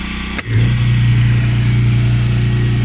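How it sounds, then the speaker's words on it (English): Top-loading washing machine on its spin cycle with the agitator turning, starting after a brief click and settling into a loud, steady motor drone and whir, with no talking. "It's on spin, but I've never seen the agitator spin before."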